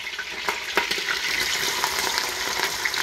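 A whole large onion drops into a pot of Sunday tomato sauce and sizzles steadily, a close, continuous frying hiss with small crackles and a few stirring knocks, no talking over it.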